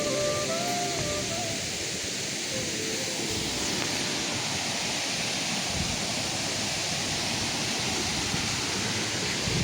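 Kothapalli waterfall roars steadily, a dense broadband rush of falling water that stays even and loud throughout, with no clear voices.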